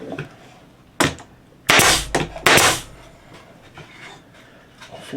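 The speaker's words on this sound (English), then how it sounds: "I'm going to use a 1-inch staple." A staple gun drives 1-inch staples into a homemade holiday welcome sign, giving one sharp snap followed by two louder, longer bursts of firing, with quiet handling noise between.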